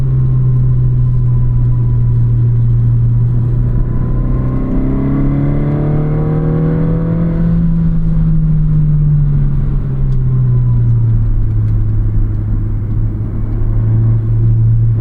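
A tuned 2023 Honda Civic Si engine drones loudly from inside the car, its pitch climbing smoothly under acceleration toward 7,000 RPM before easing back into a steady hum.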